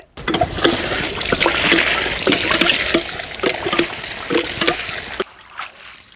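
Fresh ponnaganti leaves are rinsed by hand under a running tap, with a steady close stream of water splashing and trickling through them and brief breaks in the flow near the end.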